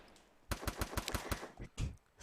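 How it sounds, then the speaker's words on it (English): Gunfire in the Free Fire battle royale game: a rapid string of about eight sharp, loud shots, followed by a few scattered bursts and a final crack, with no talking. "And we hear some gunshots already going off"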